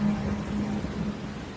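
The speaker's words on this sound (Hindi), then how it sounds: "बारिशें आ गई" Steady rain falls as a continuous wash of drops across the whole moment, with a low rumble beneath, loud and close with no speech over it.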